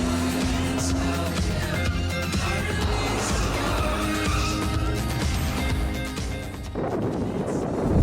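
A Porsche slides on a slippery, wet skid-pad track, engine droning loudly with a brief tire squeal early on and a sustained rushing road and spray noise throughout.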